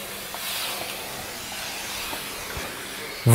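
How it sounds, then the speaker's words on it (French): A steam mop passes over a floor, giving a steady soft hiss of vapour for about three seconds, then a louder burst of hiss and clatter at the very end, with no talking. "simplement en passant de la vapeur sur votre sol"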